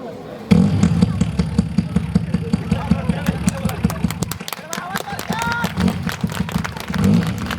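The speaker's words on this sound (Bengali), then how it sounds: "আগে হুন্ডাটা স্টার্ট দিই" A Honda motorbike engine starts with an abrupt burst and then idles in a steady, close, rumbling putter, with a voice talking over it partway through.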